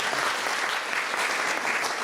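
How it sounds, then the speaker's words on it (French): Brief, lively applause from an audience at a talk on the Rosetta comet mission, praising an eleven-year-old child; dense clapping throughout at even strength. "on l'applaudit"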